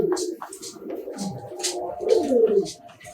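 Pigeons in a loft coo in soft, repeated throaty phrases, close and clear, with a few sharper bursts between them and no speech.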